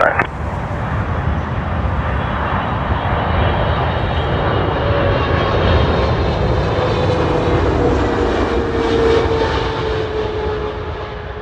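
Pakistan International Airlines Boeing 777 landing at Toronto Pearson, heard up close as a loud, sustained jet engine roar and rumble that holds steady for the whole stretch with a faint rising whine in the middle.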